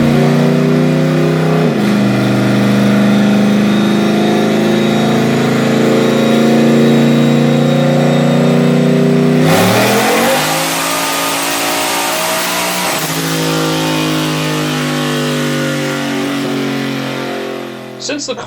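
A turbocharged VK56 engine revs hard during a dyno pull: a loud, sustained roar that climbs steadily, drops briefly, then surges again before cutting off at the end.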